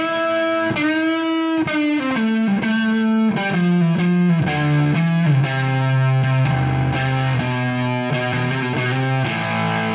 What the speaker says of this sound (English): I'm going to kick on a germanium distortion, germanium fuzz.